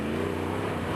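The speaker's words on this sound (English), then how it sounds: "the sound of that V8 just sounds harmonious" A Jeep Wrangler Rubicon 392 V8 rumbles steadily through its quad-tip exhaust, a continuous deep, even drone held at constant loudness for the full second with no talking over it.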